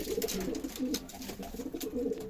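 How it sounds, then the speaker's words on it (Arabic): Male pigeons scuffle in a loft, soft cooing and low throaty calls repeating in quick bursts, close and fairly quiet, with faint flutters. "بصوا الحمام قافش بعضه، الدكرين قافشين من بعضهم"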